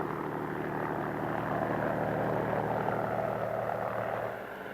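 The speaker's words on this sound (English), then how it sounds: "Here, a new model helicopter comes in with a load that runs right through the aircraft." A new-model army helicopter arrives carrying a load that runs right through the aircraft, its rotor and engine roar steady, loud and close throughout before easing slightly at the end.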